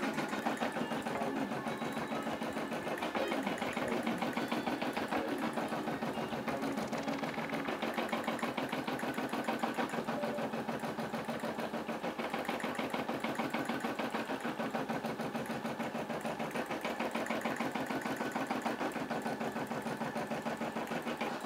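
An embroidery machine stitching out a design, a steady fast mechanical whirring and needle chatter running unbroken at an even level throughout, close and alone without any talking.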